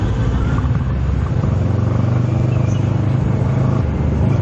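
A 2019 Kawasaki Z650 motorcycle riding through dense Manila city traffic, its engine a steady, loud, low drone close to the listener, blended with surrounding traffic noise and wind rush, no voices.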